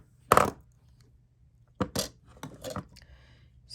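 Glass or metal beads being pushed along a wire clink sharply, one bright click followed after a pause by a cluster of several quick light clinks, close up in a quiet room.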